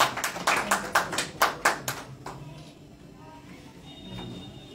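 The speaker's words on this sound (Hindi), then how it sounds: "हम लोग उनका जोरदार तालियों से स्वागत करते हैं।" An audience at a Hindi poetry festival in Raebareli gives a welcome with a burst of strong, rhythmic claps that are close and loud, then quickly tapers off into a quiet room murmur.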